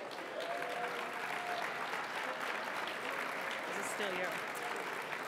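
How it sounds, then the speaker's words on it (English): At the LGBTQ+ Victory Fund 2024 National Champagne Brunch, a roomful of guests applauds board members as they stand, with sustained, even clapping and a voice talking over it. "Can you all stand as well for a round of applause?"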